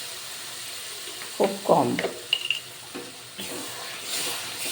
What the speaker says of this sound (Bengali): একটু অল্প করে জল দিয়ে দিলাম